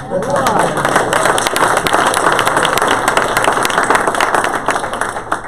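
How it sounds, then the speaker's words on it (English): Audience applause after a talk on securing a government contract: a dense, steady patter of many hands clapping for several seconds, close and loud, tapering slightly at the end, with a few voices mixed in. "That deserves a round of applause."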